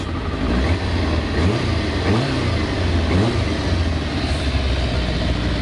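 A Kawasaki ZZR 400 motorcycle engine runs steadily close by after a clutch swap, its note rising and falling through several rev surges over a constant rumble, with no talking.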